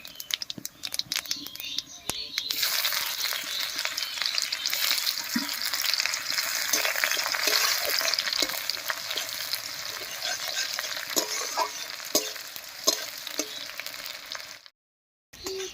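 Chopped onion frying in oil with a tempering of whole cumin, dried red chillies and a bay leaf, a close, dense crackling sizzle with scattered stirring clicks that swells after the first seconds, then cuts to silence near the end.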